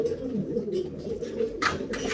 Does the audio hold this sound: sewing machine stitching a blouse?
no